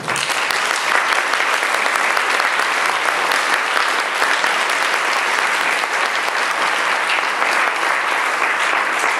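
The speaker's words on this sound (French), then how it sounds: "Je vous propose d'accueillir ce soir et de l'applaudir chaleureusement avec moi, Éric Meyer." Audience applause welcoming a guest speaker at an evening talk on China, sustained, dense clapping from a large room that holds steady and loud throughout without any voices.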